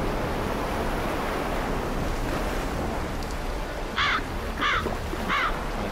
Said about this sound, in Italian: Un corvo.